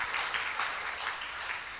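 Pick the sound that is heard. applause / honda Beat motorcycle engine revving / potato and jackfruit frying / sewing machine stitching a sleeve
applause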